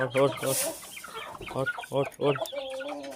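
Chickens and guinea fowl clucking close by on a farm, repeated loud harsh calls in quick bursts, with a person talking briefly among them.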